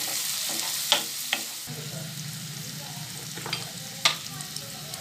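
Singapuri fried rice sizzles softly in a pan, with turmeric and chilli sauce among the seasonings, while scattered sharp clicks and taps of a spoon against the pan punctuate the steady frying hiss.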